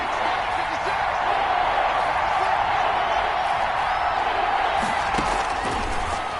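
Steady roar of a stadium crowd in a PS4 NFL football video game, a dense, continuous wash of cheering that swells slightly near the end and stays loud throughout.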